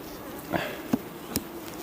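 Honeybees buzz faintly at an open hive during the making of an artificial swarm, with a steady low hum and a few brief louder passes as bees fly close.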